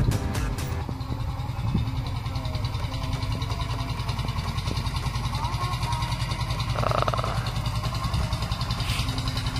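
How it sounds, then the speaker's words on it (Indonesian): A motorcycle at a river crossing ferry on the Brantas River between Nganjuk and Jombang, its engine idling in a steady mid-pitched putter with brief clanks and some faint voices. "Tuh ada satu motor."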